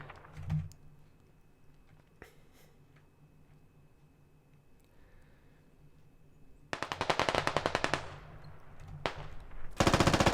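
Gunfire in the tactical shooter Squad: faint distant pops and isolated shots at first, then a loud, rapid burst of automatic fire, a sharp single crack, and another close burst at the end.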